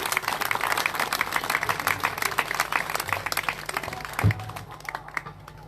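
An audience applauds musicians at a devotional gathering, with steady dense clapping from many hands that carries on for several seconds, peaks briefly, then tapers off and grows sparser.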